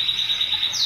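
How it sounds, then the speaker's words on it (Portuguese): A female Belgian-Spanish canary, a caged bird, gives a single clear, high, sustained chirp close by, rising slightly at the end, with no other sounds. "o Ciro e a canarinha belga, na verdade espanhola, né?"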